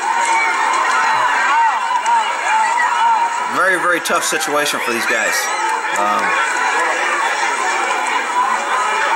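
A massive crowd surging at a border control point, a loud, dense wall of shouting and chatter with sharper cries rising midway, while someone talks over the din.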